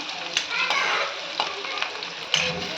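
Steady sizzling of onions frying in hot oil, with occasional scraping stirs in the pan, close and continuous with no talking.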